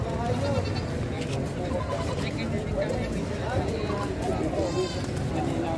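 Goats bleat at a busy livestock market in the Philippines, with repeated calls from several animals, some near and some farther off, mixed into a steady crowd hubbub while people talk close by.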